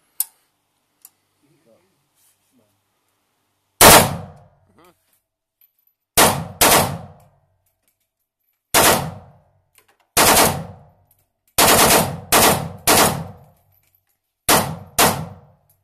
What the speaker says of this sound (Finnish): You shoot machine gun.